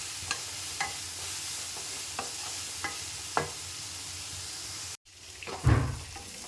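Onions frying in a pan with salt being stirred, a steady soft sizzle punctuated by repeated light scrapes of a spoon against the pan, then a louder clatter near the end.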